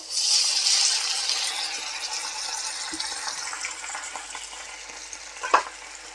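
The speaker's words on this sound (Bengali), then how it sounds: "কালার চেঞ্জ হয়ে আসা পর্যন্ত একটু ভাজা ভাজা করে নেব এইগুলোকে।" Onion, chopped chili and tomato fry in oil in a pan for chicken kofta, a continuous bright sizzle that is loudest at the start and then settles, with a spoon clinking and stirring now and then.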